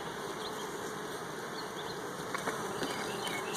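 Honeybees buzzing around an open hive box, a dense continuous drone of many wings close by with occasional louder individual passes.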